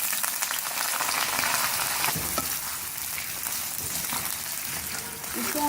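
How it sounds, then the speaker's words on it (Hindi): Potato slices fry in hot oil in a kadhai, giving a steady, dense sizzle that continues without a break, with a few faint stirring clinks near the end. "इसको हल्का सा हम फ्राई करेंगे"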